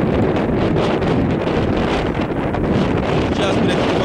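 Strong wind blows outdoors beside a KhTZ T-150K tractor, buffeting the microphone with a constant loud roar and low rumble that never lets up.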